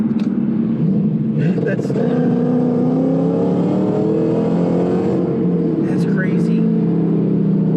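A 750 hp Roush supercharged Mustang GT revs hard against a rolling 2-step limiter in a steady, loud engine roar with crackling pops, while people talk over it.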